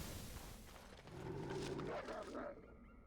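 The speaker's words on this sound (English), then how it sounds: "I heard a dog." A dog barks in the fantasy role-playing game Dragon Age: Origins, a few muffled yips and a whimpering call rising through a noisy game soundscape before fading out.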